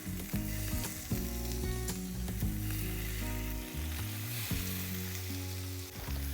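A cod fillet sizzles loudly in a very hot pan with olive oil, a dense, steady frying hiss with a few brief scrapes, close and continuous with no talking.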